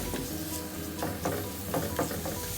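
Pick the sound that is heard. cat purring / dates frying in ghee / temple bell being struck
dates frying in ghee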